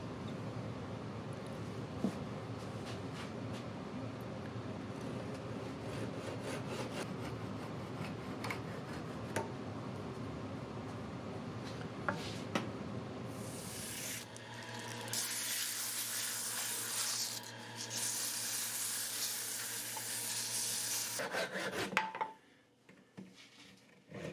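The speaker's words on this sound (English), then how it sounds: "And a little more sanding on the tips of these to bring them more to a point." Steady abrasive rasping of sanding on the tips of scrap-wood holiday ornaments runs continuously, then turns into a louder, brighter hissing grind before stopping abruptly near the end.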